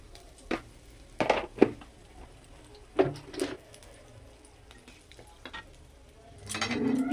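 Cumin and dried red chillies hit hot oil in a wok, giving a few sharp bursts of sizzle and spatter in short clusters, then a steadier frying hiss that builds near the end, with no talking.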